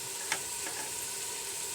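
A paste of garlic, ginger and green chili sizzles in a hot pan for chicken pulao, a steady frying hiss with a brief stirring scrape near the start.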